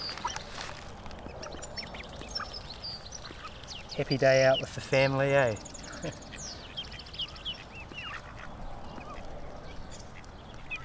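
A mother duck quacking outdoors near a bird feeder, a short loud run of harsh quacks in the middle, with a person talking around it.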